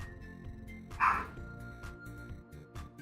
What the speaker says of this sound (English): Papa's barking